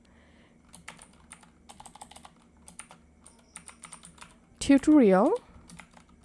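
Rapid clicks of a computer keyboard as a folder name is typed on a Windows PC, a quick irregular patter of keystrokes, briefly interrupted by a short spoken word before the typing resumes softly.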